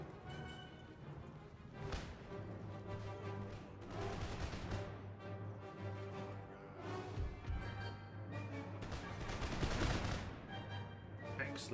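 Musket volleys crack and rattle across an Empire: Total War battlefield in repeated bursts, some sharp and near, others rolling and overlapping, over a low droning background.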